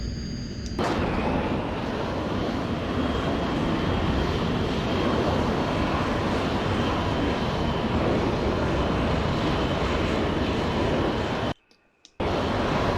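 A simulated jet engine roars steadily and loudly during a rough carrier landing approach in FSX. The engine noise holds almost constant, with a sharp cut at the start and a brief dropout near the end.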